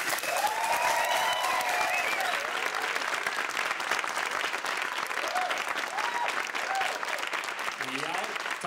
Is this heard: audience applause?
yes